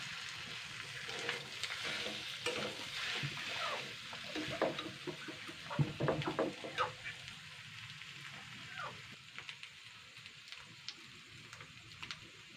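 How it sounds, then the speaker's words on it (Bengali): Potatoes and fish roe being stirred in a frying pan, a steady sizzle with scattered scraping and stirring scrapes, loudest in the middle, with no talking. "আলু আর এই মাছের ডিমটা ভালো করে নাড়াচাড়া করে নেব 5 মিনিট ধরে"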